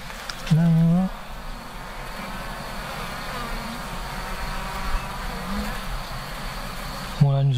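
Honeybees buzz as a dense, continuous drone around overflowing beehives during a heavy nectar flow. Louder passes come close at the start and the end, and muffled talk sits underneath.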